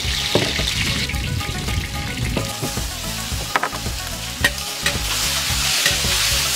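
Garlic, ginger, scallion and dried chili are stir-fried in oil, with a steady sizzle and the rhythmic scrape and clatter of a spatula in the wok, up close.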